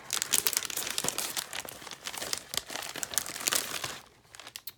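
Vellum floral greeting cards crinkle and rustle as they are handled, a near, busy stream of crisp crackles that quiets briefly near the end.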